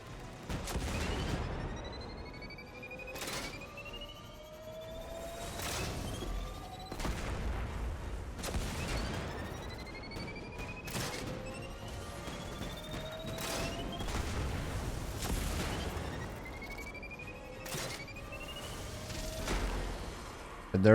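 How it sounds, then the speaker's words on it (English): Repeated heavy cannon blasts from the Scorch Cannon in the video game Destiny, fired at a mini-boss in the Grasp of Avarice dungeon, booming bursts spaced a few seconds apart over steady game effects and rising tonal sweeps. "I am going to go ahead and finish off the second mini-boss here with the Scorch Cannon again"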